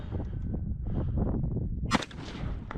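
A rifle shot strikes steel targets about 130 yards away on a run-and-gun stage in the West Texas high desert mountains. One sharp crack stands out over a constant low rumble of wind and background noise.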